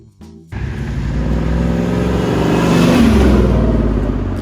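A 1999 Pontiac Trans Am WS6 Ram Air with its LS1 V8 fires into a loud, close rev after a brief quiet start, the engine note climbing and holding strong before cutting off sharply.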